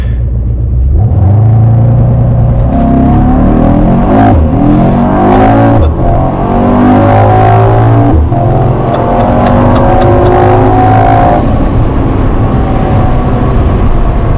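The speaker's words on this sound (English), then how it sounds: "I can't get over that turbo. It sounds good. Dude, that is beautiful sounding. Got some nice pops and bangs." A 2021 Mercedes E63s AMG wagon with a turbocharged engine accelerates hard, its loud, close roar climbing through gears with shift breaks, turbo whoosh and sharp exhaust pops and bangs.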